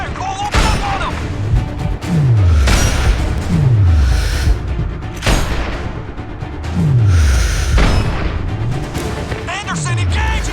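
Gunfire and explosions fill a firefight in the shooter Sniper Ghost Warrior 2, with loud repeated shots, heavy booms and descending whooshes landing every couple of seconds, close and intense, while soldiers shout in between.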